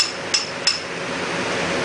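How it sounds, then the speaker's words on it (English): A socket taps a fork seal down into a BMW R1100RT motorcycle fork held in a vise, giving two sharp metallic knocks close together over a steady background hiss. "I just take a socket that's about the same size as the fork seal and just kind of tap it down"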